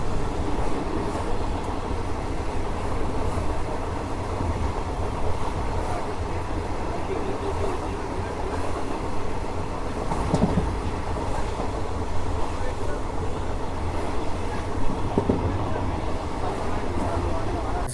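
A passenger train from Cherlapalli to Tirupati, pulled by a WG9 locomotive, runs with a steady rumble, rattle and faint clickety-clack heard from inside a coach. The sound is continuous, and voices murmur faintly beneath it.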